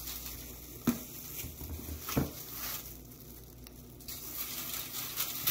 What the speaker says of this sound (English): now we are kicking the pompano. We're sauteing it.